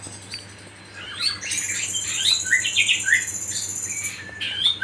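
A shama (magpie robin) with a wing-feather-plucking problem gives a quick series of bright chirps and whistled notes, close and clear, over a low steady hum.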